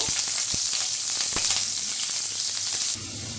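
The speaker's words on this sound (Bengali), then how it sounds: "কড়ার মধ্যে তেল গরম করে নিয়েছি দিয়ে দিলাম অল্প একটু পেঁয়াজ" Chopped onions frying in hot oil in a wok for chicken pulao give a steady, close, bright sizzle with a few stirring knocks, and the hiss drops to a lower, gentler bubbling near the end.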